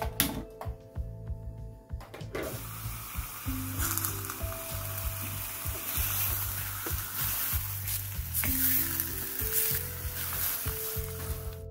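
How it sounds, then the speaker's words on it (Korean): LA galbi, marinated beef short ribs, sizzles steadily in a pan over medium heat, a close, crackling frying sound with faint clinks running through it. "예열이 되지 않은 팬에 펼쳐놓고 중불로 구워주세요."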